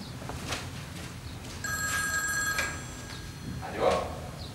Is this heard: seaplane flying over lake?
no